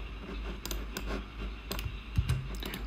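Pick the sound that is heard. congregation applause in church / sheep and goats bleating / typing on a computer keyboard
typing on a computer keyboard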